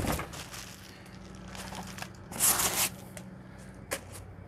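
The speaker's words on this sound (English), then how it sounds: "And then we'll continue unwrapping everything." Packaging is unwrapped from a Nakto Folding OX fat tire e-bike: quiet, close crinkling and rustling of plastic and paper come in irregular bursts, with a few sharper crackles.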